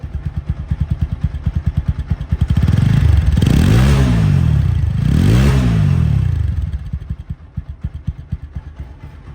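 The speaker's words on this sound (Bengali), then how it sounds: "এখন সাউন্ড কোয়ালিটি শুনুন" A used motorcycle in showroom condition, offered second-hand in Bangladesh, idles with a fast, even putter nearby, then is revved twice in quick succession before settling back to a loping idle.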